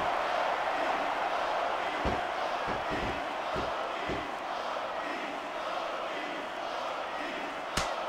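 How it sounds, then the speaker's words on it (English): A steady, dense crowd roar fills an arena during a women's wrestling match between Black Widow and Medusa in the video game SmackDown vs. Raw 2006, with a few dull thuds cutting through early on and a sharp hit near the end. "Sounds like this crowd's got something on their minds"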